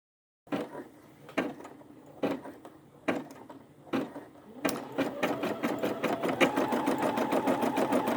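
A Brother SE600 embroidery machine stitches a key fob on a repositionable hoop, starting with a few separate mechanical clunks before settling into a fast, steady, close rhythmic stitching that runs to the end.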